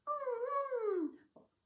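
A singer's NG siren warm-up, a small mousy puppy-like whimper: one gliding nasal tone that rises slightly and then slides down, followed by a short faint tail, close and unaccompanied, with the voice imitating a small dog.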